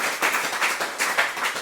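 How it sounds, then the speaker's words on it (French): Small audience applauding after a presentation: a brief burst of hand clapping, fairly close, with clear individual claps in an uneven rhythm. "Donc, on va t'applaudir."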